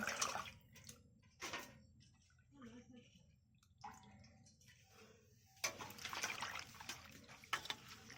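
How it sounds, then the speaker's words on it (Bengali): A Bengali cook washes gadal leaves in water, squeezing and rubbing them by hand: irregular splashes and wet swishing bursts separated by quieter gaps, growing busier and louder toward the end. "ভালো করে পরিষ্কার করে চটকে চটকে ধুয়ে নেব, নিয়ে জল ঝরতে দেব"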